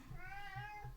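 A pet cat meows in one long, drawn-out call lasting about a second, close and fairly quiet, with a low background rumble underneath.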